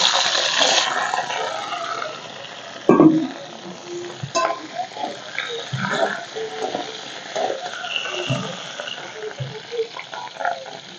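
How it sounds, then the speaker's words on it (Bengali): Potatoes and pointed gourd fry in oil left from frying fish, a continuous close sizzle with crackles and occasional stirring knocks in the pan. "মাছ ভাজার তেলের মধ্যে এখন এই আলু আর পটলগুলো আমি একটু ভেজে নেব"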